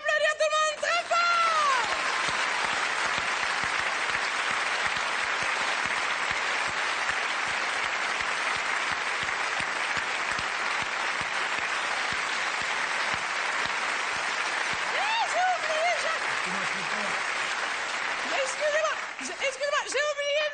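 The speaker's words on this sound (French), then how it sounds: "Je vous demande d'applaudir tout le monde très fort." A theatre audience applauds the cast at length, a dense, steady wash of clapping at the Marigny theatre that holds for about twenty seconds, with a few brief voices breaking through near the start and end.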